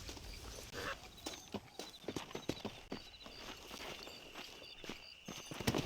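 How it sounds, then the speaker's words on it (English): Horses walking in the video game Red Dead Redemption, a steady run of hoof clip-clops at close range over a low background hum, with no talk. "Let's get back on the horses and see what else is going on."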